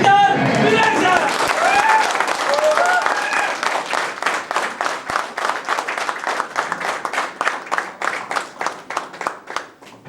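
A standing audience at a training session claps loudly to welcome a speaker, starting as dense applause under excited voices and thinning into rhythmic, evenly spaced claps in unison.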